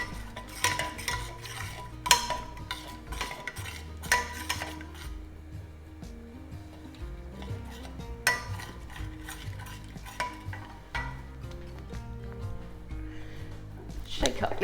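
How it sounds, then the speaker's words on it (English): A pot of gado gado components is stirred during cooking, with spoon scrapes and clanks against the metal recurring every couple of seconds over a steady background hum and soft voices. "Give this another stir."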